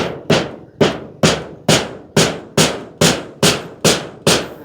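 A hammer strikes again and again to drive a door frame tight, ten sharp, loud, evenly spaced blows at about two per second, each ringing briefly before the next, with no talking.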